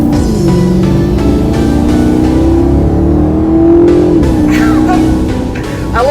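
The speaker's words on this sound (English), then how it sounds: "Let's do another pull in sport mode," A Maserati GranTurismo Sport accelerates hard in sport mode, its engine note rising loud and close through the gears with a brief dip at a shift, heard from inside the car.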